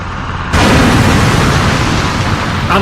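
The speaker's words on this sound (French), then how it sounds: "La voiture de John a explosé sur le viaduc" A car blows up on a viaduct, a sudden loud blast that bursts in and roars on as a sustained rumbling wash.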